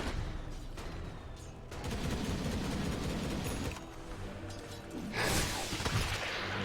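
Dota 2's Rocket Barrage ability fires in dense rapid bursts of explosive popping, two volleys with a brief lull between, the second brighter and louder, over game ambience.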